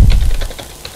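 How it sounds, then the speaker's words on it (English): Computer keyboard keys clicking as code is typed, a handful of separate light taps spaced irregularly across one second, close and clear with no talking. "I'm going to type in some code."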